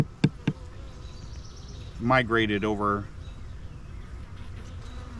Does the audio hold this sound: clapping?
no